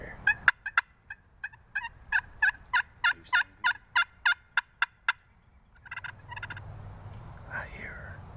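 A wild turkey hen calls in the open woods with a gobbler nearby: a long series of evenly spaced yelps rises and holds steady, then a few softer, scattered calls, distant over faint outdoor ambience.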